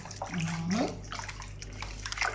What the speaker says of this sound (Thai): เดี๋ยวแม่ปล่อยน้ำก่อน